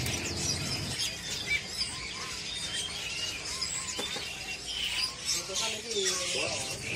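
Songbirds chirp and squeal at a bird market selling cucak ijo, scattered bright calls overlapping in a busy, noisy setting while someone talks throughout.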